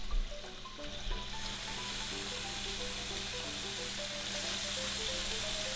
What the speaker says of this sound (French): on va cuire nos boulettes de viande en même temps que le bacon